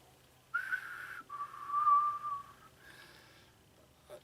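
A character from The Walking Dead whistles a short tune, a few clear sustained notes, quiet and close with faint background hiss and no talking.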